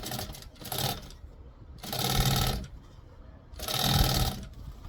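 A sewing machine stitches a fabric bag, running in three separate bursts of rapid mechanical whirring, each lasting about half a second to a second, with short pauses between them and no talk.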